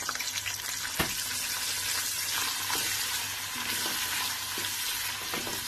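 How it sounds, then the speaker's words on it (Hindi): One large onion sizzles steadily in a hot pan for aloo gobi, a dense continuous frying hiss close up with occasional stirring scrapes and no talking. "एक बड़ा प्याज है, इसको मैं अच्छी तरह से जरा सौते कर रही हूँ।"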